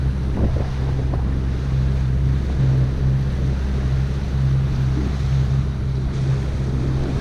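Ocean swells of about three feet rolling in at the Lighthouse surf break in the Mentawai Islands, Indonesia, heard from a boat as a steady low wash with constant wind buffeting the microphone and no voices.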